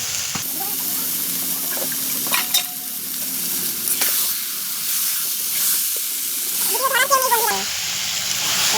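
Chicken braises in a village-style home-cooked curry, giving a steady, close sizzle and hiss with scraping stirring strokes and a brief voice-like sound near the end.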